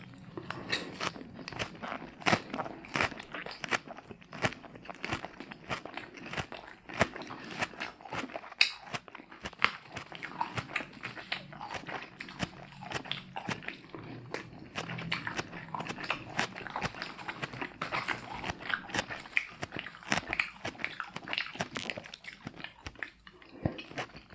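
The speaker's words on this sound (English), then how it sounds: "lettuce and spinach hopefully will make some nice crunching sounds" Steady crisp crunching and munching of leafy greens, many small irregular bites close up, with no talking.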